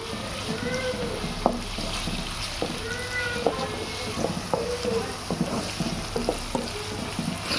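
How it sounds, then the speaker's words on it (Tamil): Onions sauté in a pan for a wheat-flour vegetable puff stuffing, a steady close sizzle broken by scattered clicks and scrapes of a spatula, with faint voices in the background. "இப்போ வெங்காயம் நல்லா இந்த அளவுக்கு நம்மளுக்கு வதங்கிருச்சு"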